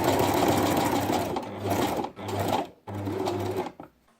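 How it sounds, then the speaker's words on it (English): A sewing machine stitches around the curved edge of a card holder at a reduced stitch length, running close and loud in several short bursts with brief pauses between them, with no talk. "You can reduce the stitch length when you're sewing the curved area."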